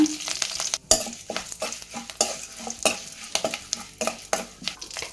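Garlic and asafoetida fry in a pan while being stirred, with close crackling sizzle under repeated scraping and clacking strokes of a spoon against the pan in an uneven rhythm, no talking.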